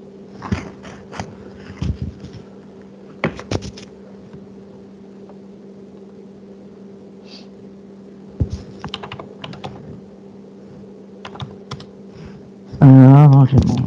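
Keys tapped on a computer numeric keypad in short scattered clusters of clicks, close and crisp over a steady electrical hum, with a loud muffled rustle at the end.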